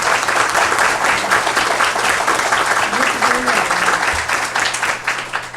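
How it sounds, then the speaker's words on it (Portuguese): An audience at a lecture on civil law gives a continuous round of applause, dense and loud, lasting several seconds with a low steady hum beneath. "Uma salva de palmas."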